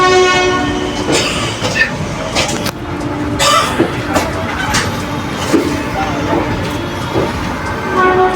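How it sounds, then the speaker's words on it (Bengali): The Teesta Torsa Express pulling out on its Darjeeling to Kolkata run, heard close up with a loud, sustained horn blast, then steady rumbling and rhythmic clatter of wagons over the track. "একদম নির্দিষ্ট টাইমে ছেড়ে দিল আমাদের ট্রেন তিস্তা দশটা এক্সপ্রেস"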